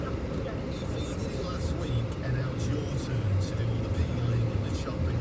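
Low, steady drone of a Skoda Fabia's small three-cylinder engine running from inside the cabin, with road rumble and a faint voice underneath.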